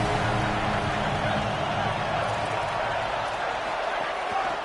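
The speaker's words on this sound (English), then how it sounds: "Crowd alive." A football stadium crowd cheers in one continuous, dense roar that fills the whole moment without letting up.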